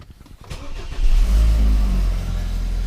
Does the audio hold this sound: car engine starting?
yes